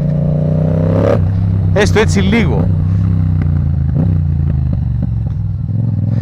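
A Yamaha MT-07 motorcycle idles close by in neutral, then gives several sharp throttle blips that rise and fall quickly before settling back to a steady idle, with someone talking over it.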